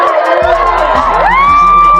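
Loud crowd noise at a boxing event after a title fight, a dense roar of cheering and whoops filling the whole clip, with a rising whistle-like cry near the end.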